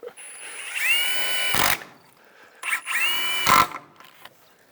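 Power drill driving fasteners into a window header and jambs, two whirring bursts of about a second each, each ending in a sharp bite as the screw seats, with quiet gaps between.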